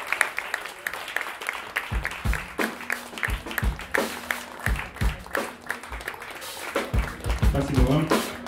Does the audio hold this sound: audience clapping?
yes